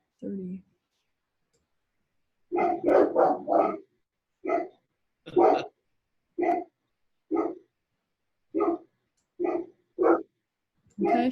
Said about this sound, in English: whose dog is on the call?